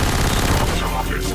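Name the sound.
MP5K submachine gun firing in Half-Life video game mod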